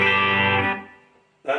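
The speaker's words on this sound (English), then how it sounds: "That's with the chorus, and reverb." A sustained electric guitar chord through a solid-state amp rings out with a shimmering, wide chorus and a reverb tail that fades, then another chord strikes near the end.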